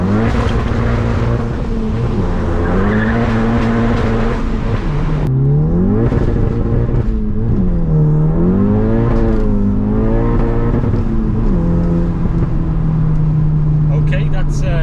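A Stage 3 VW Golf GTI making 492 PS drives and accelerates, its engine droning loudly inside the cabin with rising and falling pitch through gear changes, while someone talks over it.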